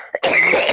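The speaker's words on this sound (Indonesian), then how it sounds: "Kalau sudah kena dingin kumat batuknya ya." A single short, harsh cough from a man giving a religious lecture, close and loud, followed by a brief throat-clearing rasp.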